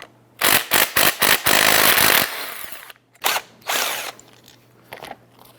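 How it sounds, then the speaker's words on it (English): A 17mm socket on a ratchet breaking loose and spinning out the two slide pin bolts of a front brake caliper on a 2009-2015 Honda Pilot, with bursts of rapid clicking and whirring separated by short pauses, close and fairly loud. "We're going to use a 17mm socket, remove the two slide pin bolts."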